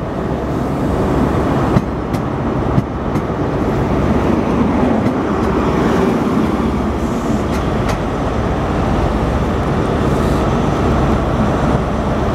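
A Virgin Trains East Coast class 43 diesel train rumbles loudly and steadily at close range for the whole stretch, a broad continuous roar with faint clicks and no speech.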